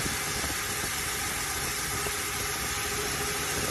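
A Toyota Hilux 3RZ-FE 2.7-liter gasoline engine idles steadily up close, a continuous mid-pitched hum with a slightly uneven, choppy edge and no voices.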